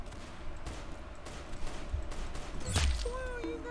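Gunfire in the Roblox game Arsenal, scattered shots and a louder burst near the end over a busy game background, with no talking.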